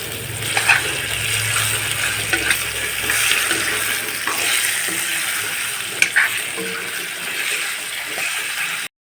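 Pork fries in hot oil in a pan and is stirred repeatedly. A loud, dense sizzle runs throughout, with sharp scraping knocks of a spoon against the pan scattered over the sizzle, close up and with no speech.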